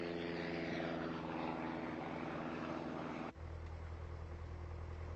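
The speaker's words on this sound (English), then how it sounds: "the airplane comes off the ground well before we pass the hangars in the background" Light propeller airplane taking off from a runway, a loud steady engine and propeller drone heard from inside, with the tone shifting abruptly partway through as the plane lifts off.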